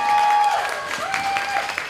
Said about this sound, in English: a huge round of applause for all the cosplays